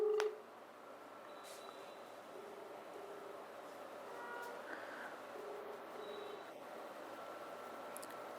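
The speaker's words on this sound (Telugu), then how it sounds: "ఒకసారి దేవేంద్ర యాదవ్ ఈయనకి ఎవరైతే ఫోన్ చేశారో ఆయనతో మాట్లాడే ప్రయత్నం చేద్దాం." Telephone dialing tones sound as a call is placed, a series of short beeps at fairly regular intervals, faint and close, over low background hiss with no talk.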